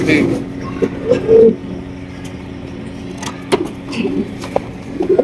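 Large white fancy pigeons coo in a few soft, low bursts close by, while a person talks over them and light background noise continues.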